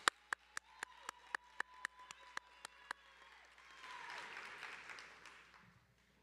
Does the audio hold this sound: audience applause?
yes